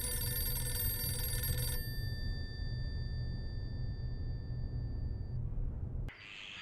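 A telephone bell rings steadily in a home, a bright metallic trill that cuts off abruptly, followed by low room hum and a short click at the end.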